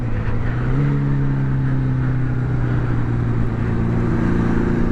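A Honda CB750 motorcycle after a carburetor swap pulls under light throttle, its engine a steady droning hum that rises slightly in pitch and holds through the ride.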